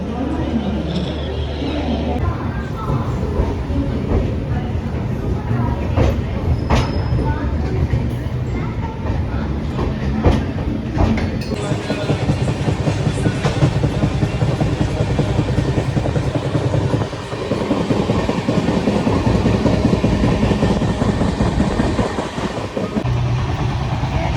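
Purushottam Express passenger train on the move from Delhi toward Puri, a loud steady rumble with rhythmic wheel clatter heard from inside the carriage, with someone talking over it.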